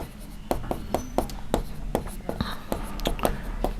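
Chalk or pen writing out division working during a Class 6 maths lesson on ratio and proportion, a run of crisp taps and strokes at an uneven rhythm, close and clear.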